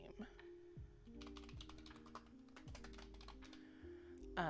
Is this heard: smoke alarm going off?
no